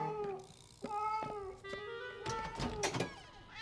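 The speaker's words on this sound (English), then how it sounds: "Silly cat." A cartoon cat gives several short meows in quick succession, fairly near and quiet, with a few soft knocks between calls and no talk.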